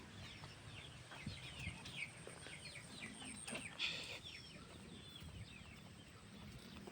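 Farm chickens after feeding, hens clucking and a rooster calling faintly at a distance, with occasional wing flaps over a soft outdoor background.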